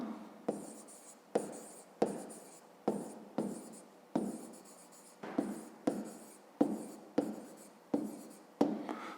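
A pen writes on paper while a fifth-grade math exercise is worked out, with close, quiet repeated scratchy strokes in short bursts of roughly one per second and no talk.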